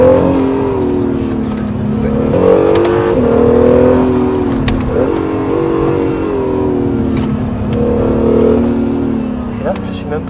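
A Honda NSX second-generation hybrid sports car in Sport Plus mode revs and accelerates, its engine note rising and falling loudly up close from inside the cabin.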